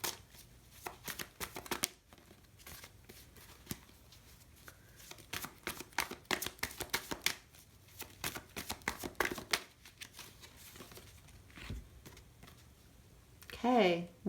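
Tarot cards shuffled for a pick-a-card reading make papery riffles and slaps in quick irregular bursts, fairly close and soft, with a voice speaking over part of it.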